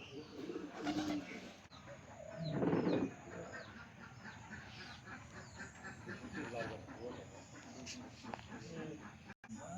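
Pigeons coo softly in a rural farmyard beside goat and cow sheds, faint and intermittent beneath a person talking, with other farm bird calls in the background.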